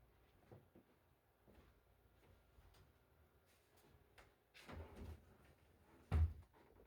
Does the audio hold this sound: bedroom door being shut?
yes